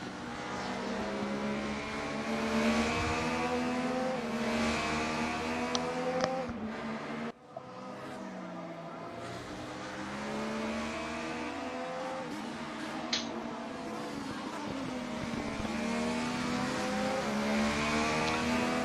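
DTM95 C-Class race cars lap a circuit in the RaceRoom sim, engines droning and shifting through the gears in a continuous, layered roar, with a brief dip mid-way and other cars audible nearby.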